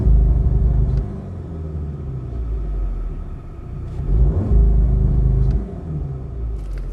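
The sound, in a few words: Audi A1 40 TFSI launch control acceleration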